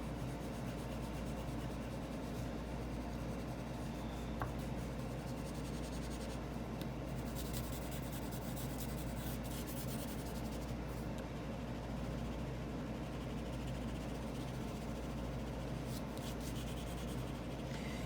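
Markers scratch and rub across paper while shading a drawing, a faint, continuous close-up scribbling texture over low room hum, with no speech.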